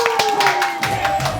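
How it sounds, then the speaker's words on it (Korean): Brief audience clapping on a Korean talk show, several hand claps in quick rhythm mixed with a steady tone and light crowd noise, moderately close. "박수 한번 쳐주세요."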